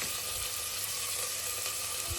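Goat meat fries in hot oil with fenugreek inside a pressure cooker, a dense, constant sizzle and crackle filling the clip without pause.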